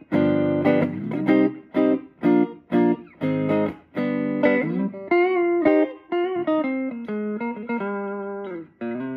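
A clean, dry electric guitar plays chords and single notes through a transformer-driven amplifier with its reverb off, each attack cutting off sharply with no lingering echo.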